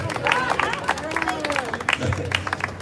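Crowd at an outdoor Protect Childhood rally at Custom House, Dublin, clapping in a loose, uneven patter with murmured talk mixed in.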